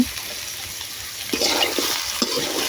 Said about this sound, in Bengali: লবণ দিয়েছি আর হলুদ দিলাম, দিয়ে আমি নাড়াচাড়া করব।